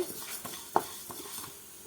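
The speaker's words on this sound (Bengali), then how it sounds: "চালগুলো দেখুন ভাজা হচ্ছে" Rice grains dry-roasting in a pan on a gas stove, with faint scattered crackles and light scraping stirs, quiet and close, plus one sharper clink of utensil against the pan.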